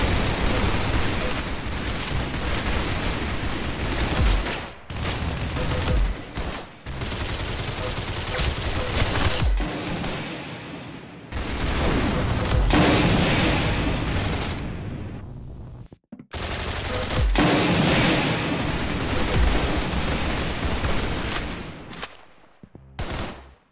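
Rapid automatic gunfire and blasts from the Roblox game Arsenal come in loud, dense bursts, broken by several short pauses and a brief silence, then trail off toward the end.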